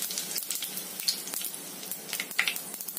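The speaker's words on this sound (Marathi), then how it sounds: "आता कढीपत्ता घालूयात आपण।" Curry leaves dropped into hot oil in a kadai while making kande pohe, giving a close, steady crackling sizzle with sharp pops scattered through, no voices.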